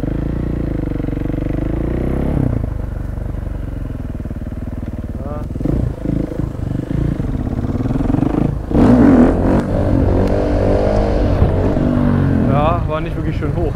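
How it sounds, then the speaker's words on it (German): A motorcycle engine revs and surges during a wheelie attempt, rising and falling in pitch over several seconds, loud and close, with voices talking over it. "wir versuchen jetzt mal die Basics, einfach nur mal ein Wheelie"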